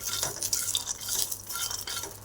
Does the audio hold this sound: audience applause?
no